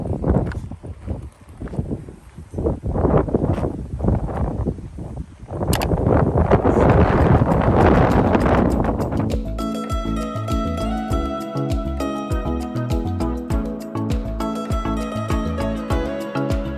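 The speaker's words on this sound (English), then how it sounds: "It is windy as heck outside" Strong coastal wind buffets the microphone on Maui cliffs near a blowhole, loud and continuous with gusty broadband rumble, followed by a steady wash of noise with tonal bands layered on top.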